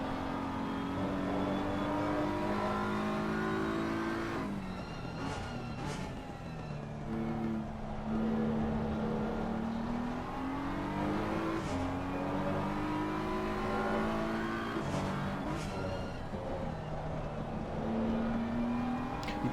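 GT3 race cars in a racing video game screaming down a straight, with engines revving and climbing through gear changes. The whine stays continuous and fairly quiet, with several upshifts.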